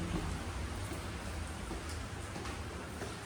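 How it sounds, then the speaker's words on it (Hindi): Heavy, sudden rain pouring down outdoors, a dense steady hiss of drops hitting surfaces with scattered sharper patters, moderately quiet and continuous with no talking. "और बहुत ख़तरनाक बारिश हो गई अचानक से"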